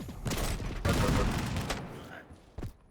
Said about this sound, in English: Oh, his HMG work is doing wonders.